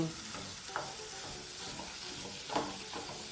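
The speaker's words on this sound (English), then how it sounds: "proceed to add your mince into your pan, and using a wooden spoon, proceed to just separate the chunk of meat into the pan" Minced meat for an Aussie meat pie sizzles steadily in a pan while a wooden spoon breaks it apart, a constant close frying hiss with a couple of soft scraping knocks from the spoon.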